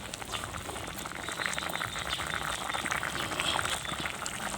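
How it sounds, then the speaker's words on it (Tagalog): A pot of soup bubbles over a campfire, a steady busy simmer of popping bubbles and liquid churning, close and continuous with no talk. "Ayan, kumukulo na nga."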